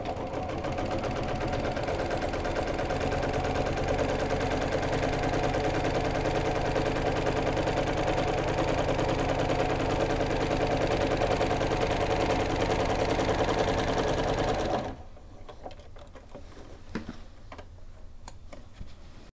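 A sewing machine quilting cross-hatch diagonal lines runs in a fast, steady, even mechanical rattle for about fifteen seconds, then stops abruptly, leaving faint handling noise.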